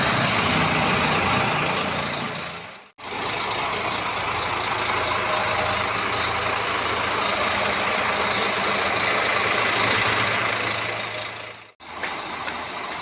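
A Scania K410IB coach bus engine idles with a heavy low rumble and broadband hiss, steady and close, broken by two brief dropouts where the sound cuts out.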